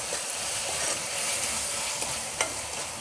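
A spoon stirs salt into roasted eggplant bharta in a hot pan, a soft continuous sizzle with faint scraping strokes and a couple of light clinks, close and steady, with no talking.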